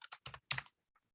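Quick bursts of keystrokes on a computer keyboard while a user ID and password are entered, several close, crisp taps in uneven clusters followed by a single faint final press.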